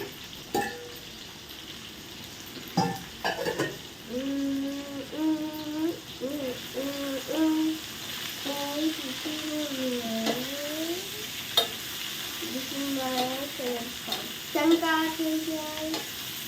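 Onions and cluster beans frying in a pan, with a soft continuous sizzle, repeated scraping stirs and some faint tonal sounds in the background.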